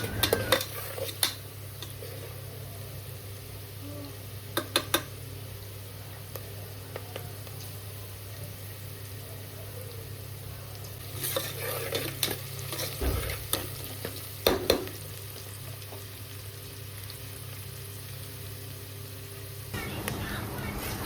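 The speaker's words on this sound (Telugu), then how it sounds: "సాల్ట్ వేసుకున్నాక కొంచెం అలా కలిపిన తర్వాత మనం ఆ గరిటెతో అలా కలిపిన తర్వాత అవి కొంచెం బ్రౌన్గా అయ్యే వరకు కలుపుకొని" A ladle stirring vegetables frying in a pressure cooker with salt, giving a steady low sizzle under occasional scraping clinks of metal on the pot, with someone talking throughout.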